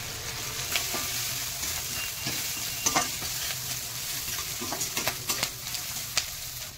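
Spices and garlic tempering in hot oil give off a continuous loud sizzle, with intermittent clicks and scrapes of a utensil stirring through the pan.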